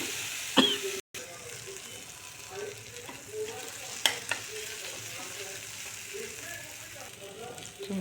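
Tomato and coriander fry in a pan with a continuous close sizzle, broken by a few sharp stirring clinks and scrapes, while a person talks over the cooking.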